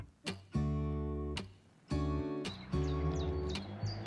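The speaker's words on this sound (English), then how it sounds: "Listen to the birds twittering away." Birds twitter outdoors beside a parked motorhome and caravan, with long sustained tonal calls and quick high chirps repeating in several phrases, fairly faint and with no one talking.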